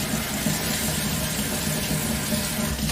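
Water poured into a roasting pan holding turkey drippings: a steady, continuous splashing rush of liquid, fairly close, with no talk.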